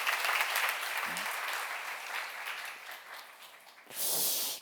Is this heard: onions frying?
no